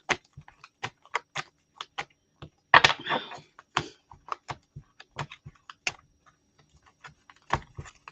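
Tarot cards are shuffled in a run of crisp, irregular snaps and riffles, close and fairly loud, with a denser flurry near the middle and short quiet gaps between bursts.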